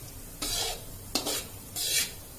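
Ghee stirred into gram flour roasting in a pan for besan ladoo makes three loud scraping, sizzling bursts, each about half a second long, with short pauses between them and no talking.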